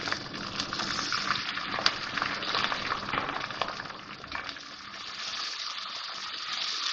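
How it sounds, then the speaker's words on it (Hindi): Loud, steady hiss and sizzle of garlic ginger paste frying in a hot pan, close up, with occasional spatters and no voices. "अब ये लहसुन अदरक का पेस्ट डाल रही हूँ इसमें मैं।"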